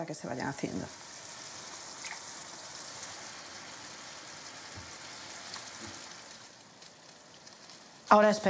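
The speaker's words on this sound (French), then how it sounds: "Puis, on y ajoute nos calamars." Squid cooking in cooking wine in a pan gives a soft, steady sizzle that runs throughout at low level, with a brief sharp clatter near the end.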